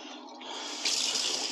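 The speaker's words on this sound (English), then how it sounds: "I'm going to pull the stopper out, and we're going to try to rinse this the best we can." Water rushing as it drains from a large cyanotype print tray during rinsing, a steady close hiss that grows louder and fuller partway through.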